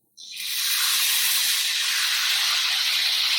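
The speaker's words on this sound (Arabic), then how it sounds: "هلا بحط عليها القطر شوي شوي، معلقة معلقة" Syrup spooned onto hot semolina dough for a Syrian cream-filled dessert, bursting into a loud, steady sizzling hiss that starts abruptly and holds without pause.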